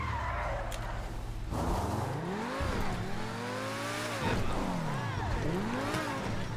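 In GTA Online on PC, a car engine revs hard in repeated rising and falling sweeps while the tires skid and squeal. The sound is loud and close, with no gaps.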